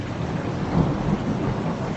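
Thunder rumbling during a rainstorm in the San Fernando Valley, a low rolling boom swelling through the middle under steady rain hiss, with no talking.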